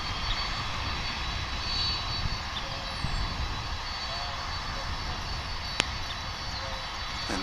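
An airliner on the ground at Dallas/Fort Worth International Airport, just pushed back and taxiing, gives a steady, moderately loud engine drone with a broad rumble that holds throughout, plus one brief sharp click near the end.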